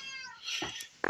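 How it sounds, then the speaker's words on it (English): A fat house cat meows close by indoors, with two short calls against a faint steady background hiss. "there's my fat, annoying cat."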